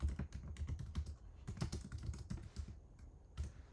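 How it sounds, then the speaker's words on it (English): A password is typed on a computer keyboard, with a quick irregular run of close, crisp key clicks and no talk. "type in my password here"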